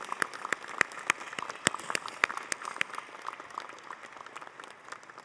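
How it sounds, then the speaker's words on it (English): Graduates at an undergraduate commencement clap for themselves, a sparse, moderately distant applause with sharp individual claps standing out from a softer crowd patter that thins toward the end. "please give yourselves a round of applause"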